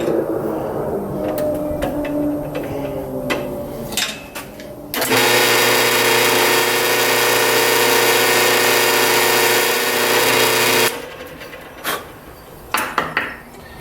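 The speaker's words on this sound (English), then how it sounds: "I've set up a brad point drill bit and I've marked it with tape" A power drill fitted with a brad point bit bores into wood for a drawer pull insert, a steady loud whir running about six seconds between quieter shop sounds and light handling clatter.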